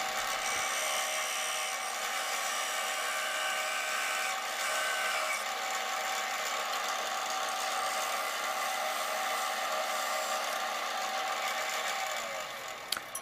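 A flat parting tool on a wood lathe cuts off a turned piece, a continuous bright, scraping hiss that holds steady for many seconds, then fades as the cut finishes.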